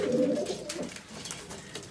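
Pigeons coo in low, throaty murmurs close by, the cooing fading and overlapping with soft background rustle.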